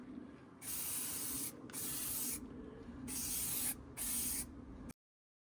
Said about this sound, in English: Ended up giving it a whole coat of etch.